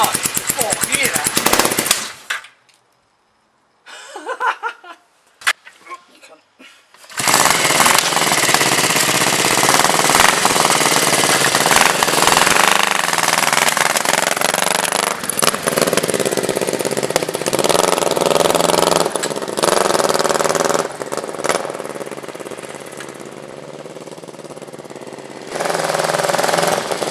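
Chopper motorcycle engine under construction fires up with a loud, rapid, hammering exhaust rattle that runs almost continuously after a brief sputtering start, close and harsh, with a short pause partway through.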